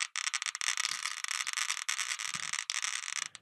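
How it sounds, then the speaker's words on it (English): A Geiger counter held near a thoriated camera lens, giving rapid irregular clicks, each one a single alpha decay, dense crackling bursts that are close and fairly quiet, with no voices. "so each click that you're hearing is a single alpha decay"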